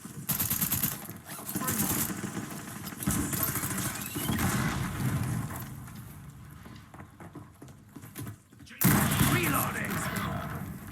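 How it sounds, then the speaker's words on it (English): Video game gunfire in a battle royale match, repeated bursts of rapid shots and fusillades, loud and close, mixed with in-game voice callouts and other speech, with a brief lull before heavier firing resumes. "Taking effective fire!"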